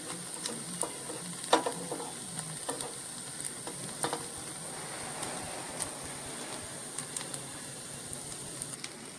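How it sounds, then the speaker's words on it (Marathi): Ghavan, a thin rice-flour crepe, frying in a pan with oil sprinkled over it, giving a soft steady sizzle broken by scattered sharp pops and spatters, with no talk. "त्याच्यावर तेल थोडं शिंपडायचं"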